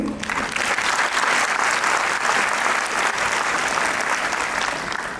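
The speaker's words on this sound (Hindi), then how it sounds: "बहुत ही सुंदर प्रस्तुति थी, लेकिन तालियां कमज़ोर थीं" Audience applause in a theatre after a children's cultural performance on the eve of independence day, a continuous even patter of many hands from start to finish.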